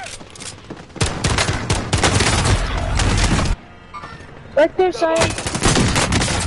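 Dense, loud bursts of automatic gunfire in a Warzone match keep going for several seconds. A short pause follows, then the shooting resumes, with a player speaking briefly in the gap.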